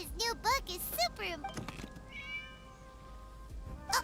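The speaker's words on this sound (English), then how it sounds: "It was just a cat." A cat in the video game Genshin Impact meows several times in short, rising-falling cries spread across a few seconds, with a faint drawn-out tone in the middle and a closing mew, loud and near against a soft game backdrop.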